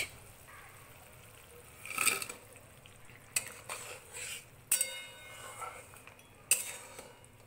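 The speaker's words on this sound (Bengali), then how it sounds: "এবার আমি এর মধ্যে অ্যাড করব ভেজে রাখা মাছ।" Pieces of fried sea fish go into a simmering curry gravy in a pan, heard as soft stirring and bubbling with a few sharp utensil clinks against the metal, close and fairly quiet.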